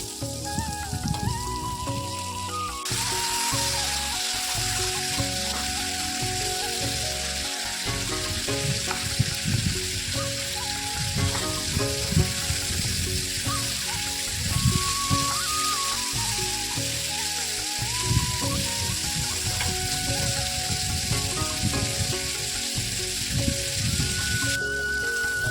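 Pointed gourd and potato pieces frying with salt and turmeric in a pan, giving a continuous, close, even sizzle that lasts throughout, with faint tonal music underneath.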